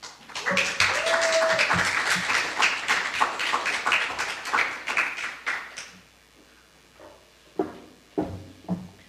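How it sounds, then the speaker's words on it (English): Congregation applause for a guest speaker at a Sunday church service, a burst of many hands clapping that fades out after about six seconds, followed by a few scattered knocks and footsteps. "So let us please offer up with a round of applause."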